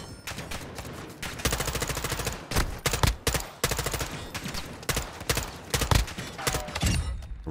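Rapid gunfire in the video game Call of Duty DMZ, loud bursts of automatic shots in quick, uneven volleys with brief pauses between them, close and punchy, no voices.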